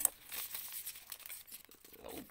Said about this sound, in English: when we cut it again at the middle